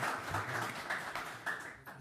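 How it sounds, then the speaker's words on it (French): Audience applause rising at the close of a speech's opening remarks, a steady wash of many hands clapping at moderate distance, with a few sharper bursts toward the end. "les applaudissements qui ponctuent la fin de ces propos liminaires"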